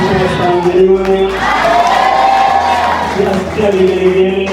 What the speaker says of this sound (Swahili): Tunasikia vigelegele.